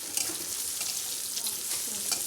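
Onions sizzle in hot oil with ginger garlic paste and a little turmeric, a soft continuous frying hiss with faint stirring scrapes, fairly quiet and steady.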